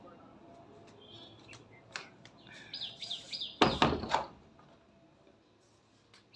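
Faint, scattered bird chirps with a brief burst of brighter tweeting in the middle, surrounded by quiet room noise and a few clicks.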